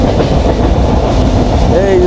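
Banalata Express train crossing the new Jamuna rail bridge, a loud steady rumble of wheels on track with rhythmic clatter and a brief high squeal near the end, heard from on board.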